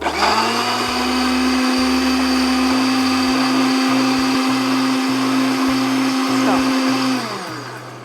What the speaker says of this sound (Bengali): সবগুলো ইনগ্রেডিয়েন্ট ব্লেন্ড করে ফেলবে